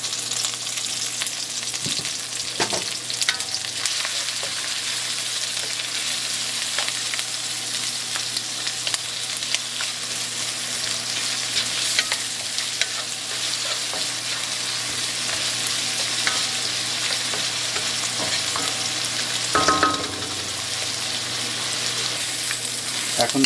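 Garlic and ginger with a pinch of salt sizzle steadily in a pan for pineapple fried rice, a dense, continuous crackle with occasional stirring scrapes, close and fairly loud, with no one talking.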